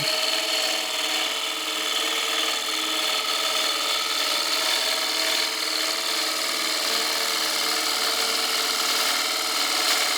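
A bowl gouge makes a bevel-riding push cut across a wooden bowl spinning on a lathe, giving a steady, close, continuous hissing shave over the lathe's hum with no pauses.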